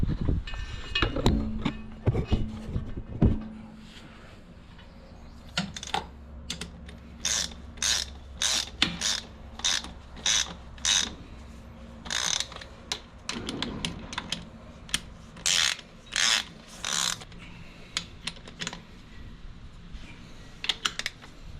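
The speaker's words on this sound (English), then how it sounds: "You can see the PTO shaft turn as we just start to catch the drive." The PTO shaft and belt pulley drive on a Minneapolis Moline 335 tractor engage, producing a series of sharp ratcheting, gear-like clicks in irregular bursts, fairly close, with a low mechanical hum beneath and no talking.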